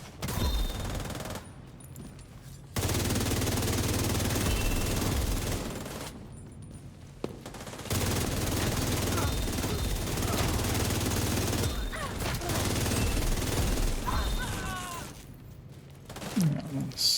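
Video game gunfire plays as sustained bursts of rapid automatic shooting, with dense crackling volleys broken by short pauses, while a player talks over the action.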